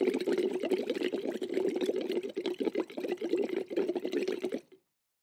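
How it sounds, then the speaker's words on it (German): Water bubbling and gurgling close up in a steady busy stream for about five seconds, then stopping abruptly into silence. "Blubbern entspannt mich."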